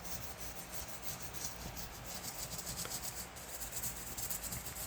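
Steady, close scrubbing of a toothbrush against a rusty Leatherman multitool, a continuous rough rubbing with a slight back-and-forth rhythm.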